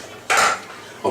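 Cooking pans clatter against a stovetop burner as they are shifted, one loud metallic scrape and clank followed by a brief quieter knock near the end.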